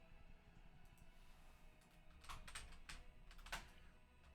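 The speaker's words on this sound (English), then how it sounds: "while I'm typing this up" Quiet typing on a computer keyboard, a soft irregular patter of keystrokes that picks up with sharper, denser clicks in the second half, no talking.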